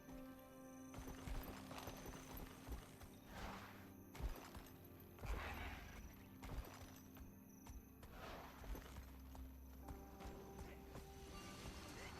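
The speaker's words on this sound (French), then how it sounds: "Oh, bonjour les chevaux." Horses in a video game clop their hooves in uneven bursts and give an occasional neigh, moderately close, over steady game ambience with a little speech.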